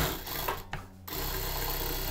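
A sewing machine topstitches a seam on a blazer in short close bursts, with a brief pause in the middle before the steady stitching resumes.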